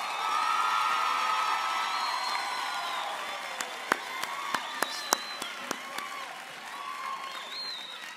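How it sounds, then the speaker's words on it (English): A graduation ceremony audience applauds at an honorary doctorate conferral, a steady wash of many hands clapping throughout, with a few sharper nearby claps and faint cheers mixed in. "Can we give them a proper round of applause?"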